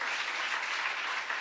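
A church congregation claps loudly, a broad, uniform roar of many hands heard from slightly back in the hall, continuous and even across the short stretch.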